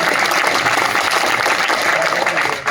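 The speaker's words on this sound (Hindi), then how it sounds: "ताली बजा दीजिए" Dense, steady applause from the audience at a Hindi poetry recital (kavi sammelan), loud and continuous throughout with no pauses.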